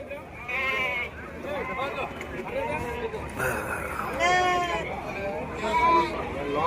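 Ongole sheep bleating at a Gudur sheep market at night, several loud nearby bleats rising above a crowd murmur, with people talking throughout.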